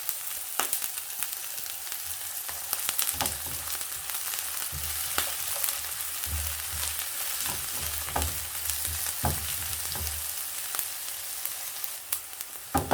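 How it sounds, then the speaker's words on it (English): Onion sautéing in cooking oil for samosa filling: a steady fine crackling sizzle close by, with intermittent low stirring knocks and scrapes throughout. "I'll saute my onion"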